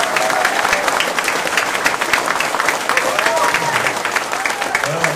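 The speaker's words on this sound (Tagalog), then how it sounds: "Palakpak nga kayo." An audience at a distributor orientation claps steadily and fairly loudly in a dense, even patter, with a few voices faintly mixed in.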